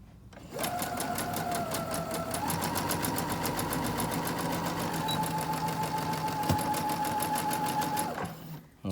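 A sewing machine stitches a fabric face mask with a fast, steady mechanical whirr and a rapid needle rhythm that runs for several seconds before stopping.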